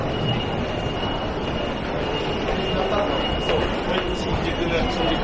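A train at Ikebukuro station in Tokyo rumbles steadily with a continuous loud roar and a faint high wheel whine, filling the platform with constant noise throughout.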